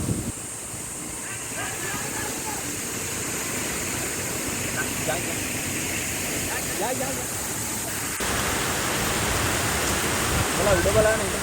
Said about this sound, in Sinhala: අපි යද්දි මේ වගේ දියැලි තිබ්බා. ඉතින් අර වතුර වැඩි වෙලා තිබ්බා වැස්ස නිසා.